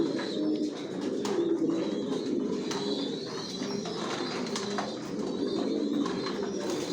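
Janssen racing pigeons cooing inside a loft, a steady murmur of overlapping low coos from many birds with occasional sharper calls and faint rustles, moderately near and continuous.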